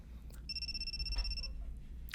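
A cell phone lying face down on the ground by a door rings once with a bright electronic tone lasting about a second, over low background rumble.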